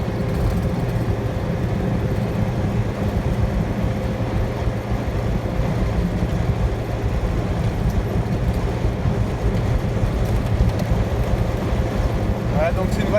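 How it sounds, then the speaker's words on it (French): Inside a Citroen 2CV on the move, a constant low engine drone and body vibration fill the cabin, with someone talking over it throughout. "c'est une 2 chevaux donc ça vibre un petit peu"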